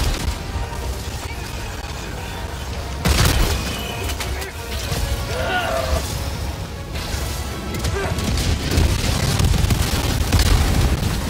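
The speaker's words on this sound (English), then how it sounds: "Have fun with that grenade!" A grenade goes off in Helldivers 2 amid a busy game battle, with a loud burst around the third second followed by continuous rumbling gunfire and combat noise, with voices talking over it.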